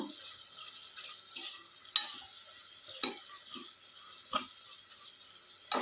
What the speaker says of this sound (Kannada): ಅರಿಶಿನ ಪುಡಿ ಹಾಕ್ಕೊಂಡು ಸ್ವಲ್ಪ ಹಸಿ ಸ್ಮೆಲ್ ಎಲ್ಲ ಚೆನ್ನಾಗಿ ಹೋಗೋ ತನಕ ಹಿಂಗೆ ಬೇಯಿಸ್ಕೊಳ್ಳೋಣ